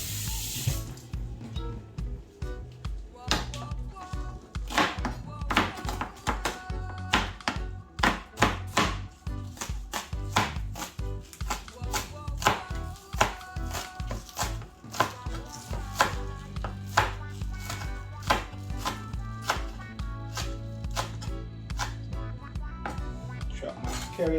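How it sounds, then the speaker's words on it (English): A knife chops washed scallions on a cutting board in rapid, uneven runs of sharp taps, close and steady, with occasional water and kitchen clatter in the background. "I'm now going to go ahead freestyle and chop some scallion"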